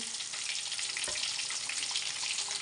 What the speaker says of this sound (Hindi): ये देखें जी, माशाल्लाह कितनी प्यारी फ्राई हुई है